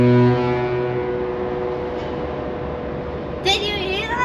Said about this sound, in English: That was a great honk.